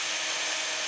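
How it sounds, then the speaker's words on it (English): A drill bores steadily into the wooden body of a handmade guitar, a brief continuous grinding whir close up with no pauses and no talk. "I'm just going to drill about that far in"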